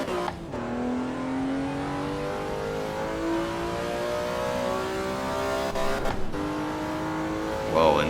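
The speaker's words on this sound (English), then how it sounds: "the sound when you hit the rev limiter" A car in the Assetto Corsa EVO racing game drives at the Nürburgring, its engine droning steadily as revs climb and hold, broken by brief gear-shift dips and a final sharp bump.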